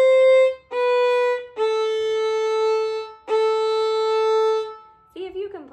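Violin playing the fiddle tune Old Joe Clark, a few sustained bowed notes with clean separations, held steadily and heard up close, ending with a short scratchy bow stroke.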